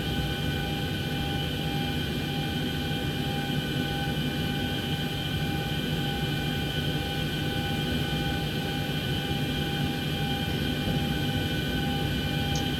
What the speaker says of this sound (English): Alright, so now that the APU is on, we wait about 30 seconds to a minute to turn on the bleeds for the aircraft.